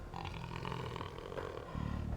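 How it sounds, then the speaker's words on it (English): A jaguar growls in Age of Empires II, a low, rough rumbling growl that carries steadily for about two seconds and swells louder near the end, heard alone without speech. "I hear the growl of the jaguar."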